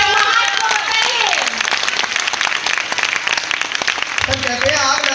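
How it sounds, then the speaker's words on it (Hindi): Loud applause from a seminar audience, brisk clapping with cheers and voices mixed in, and a voice rising over it near the end. "जोरदार तालियों से अपनी गर्माहट को बताइए"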